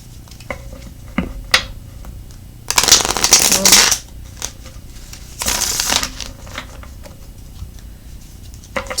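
Tarot cards shuffled by hand in two loud riffling bursts, with soft handling taps and card snaps between them, close and clear with no talking.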